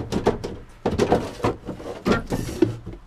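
Wooden drawers in a retro camper slide open and shut, a string of short scrapes and soft knocks close by in a quiet interior.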